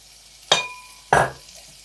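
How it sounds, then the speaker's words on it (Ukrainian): Young potatoes with garlic and dill being stirred makes two quick, bright clinks of a utensil against the dish, about half a second apart, close and clear over a quiet background. "Тепер усе це перемішую і все, і можна їсти буде така смачна картопелька."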